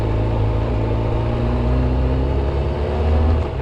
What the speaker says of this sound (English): Can you hear my engine? The fan's kicked in, it's overheating.